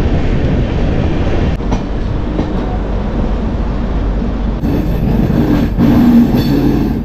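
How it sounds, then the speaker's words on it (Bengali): The Doon Express, Kolkata to Varanasi service 13009, rolls into Varanasi Junction with a steady, loud rumble of wagons on rails and a faint wheel squeal near the end, and no voices. "একদম ঠিকঠাক টাইমে ঢুকিয়ে দিয়েছে ট্রেন আমাদেরকে।"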